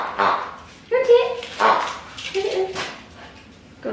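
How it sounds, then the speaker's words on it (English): A dog named Connie barks and yips in several short, sharp bursts, fairly close, with whimpering tones between the calls and gaps of quiet. "Let me just go and see what Connie's barking at"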